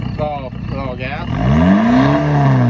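A car engine revs up as throttle is applied during a mod install, its pitch rising smoothly to a sustained louder drone, with a voice speaking briefly at the start.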